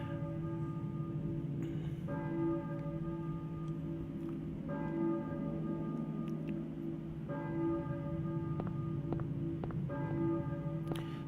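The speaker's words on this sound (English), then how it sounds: "you can hear the bells tolling on the background." Church bells toll in a video game's eerie town, struck in repeated, evenly spaced peals with long ringing overtones that hang over a steady low drone, each strike swelling and decaying before the next.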